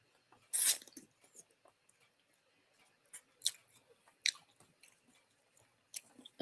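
Someone crunches and chews spicy, sour pickles in a series of sharp, crisp bites and wet crunches, close to the mic with quiet pauses between them.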